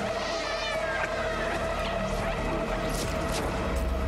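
A cat in the video game Stray, under attack, meows and cries amid a dense, loud game soundtrack with crashing effects, the cat sounds partly buried in the mix.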